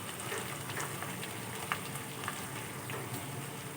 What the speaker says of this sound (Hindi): 1 मिनट फ्राई करने के बाद इसमें डालेंगे प्याज चॉप किया हुआ